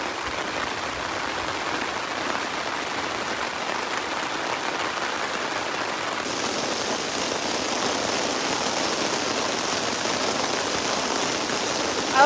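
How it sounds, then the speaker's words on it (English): Heavy storm rain pounding down around a canoe-route campsite on Lac Aux Sables and Bark Lake, a dense, continuous roar of drops that grows slightly louder partway through, with no voices. "The rain is just deafening. It's so loud."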